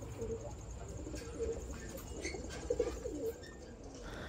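Pigeons coo in a loft, low soft calls repeating through a steady background murmur, with a few slightly louder coos near the end.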